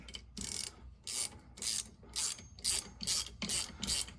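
A hand ratchet clicks in quick bursts while bolting up a kingpin housing on a Case IH 275 compact tractor, about eight crisp, evenly paced strokes close by with short pauses between.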